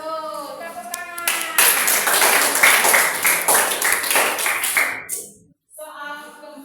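A group claps after a correct answer in a quiz about Indonesian history, with a brisk, fairly close burst of hand claps lasting about three seconds that stops abruptly. A voice speaks briefly before and after.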